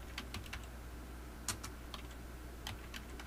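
Keys tapped on the keyboard of a 2011 Toshiba Satellite Pro L740 laptop, a few quick soft clicks in short bursts over a steady low hum, fairly quiet and close.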